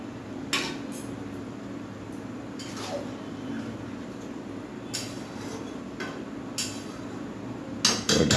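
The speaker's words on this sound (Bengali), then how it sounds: "এবার ঢাকা দিয়ে দেবে যাতে ভালোভাবে সেদ্ধ হয়।" Metal clinks and knocks as a lid is set on a pot of simmering vegetable curry, a few sharp separate contacts spread over a quiet kitchen background, the last one louder near the end.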